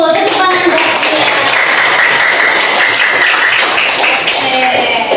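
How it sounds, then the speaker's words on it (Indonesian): Applause fills an Indonesian classroom, a dense, loud, continuous patter of many hands clapping for the whole stretch, with voices mixed in. "tepuk tangan buat Dia"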